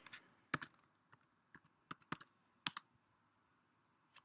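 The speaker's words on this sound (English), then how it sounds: "So I'll just type in something really quick." Typing on a MacBook Pro keyboard in Terminal, a quick irregular burst of light key clicks, close but fairly soft, with nobody talking.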